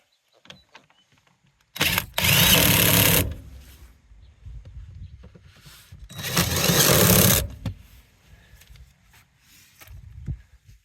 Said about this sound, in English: Now that the seat's in place, we can put those Torx bolts back in and screw them down.